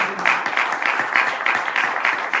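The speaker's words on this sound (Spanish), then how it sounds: "Un aplauso a nuestro Señor." A church congregation applauds, with steady, dense clapping that continues for the whole stretch and has no talk over it.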